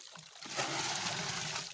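Irrigation water flows into a hybrid maize field, a steady faint rushing and trickling with no voices.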